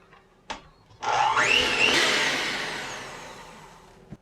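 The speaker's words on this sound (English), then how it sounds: "Let me go ahead and mix this together real quick and get this all incorporated" An electric mixer whirs into snowball cookie dough, starting after a brief knock and running loud and steady for several seconds as its pitch shifts, then fading slightly before a final tap.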